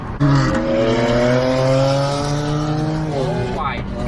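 Modified cars revving at a nighttime car meet in LA, with loud rising and falling engine notes sustained throughout, a close sweeping pass near the end, and wind noise underneath.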